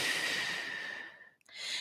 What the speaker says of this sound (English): Start to get a sense of the rhythm of your breathing.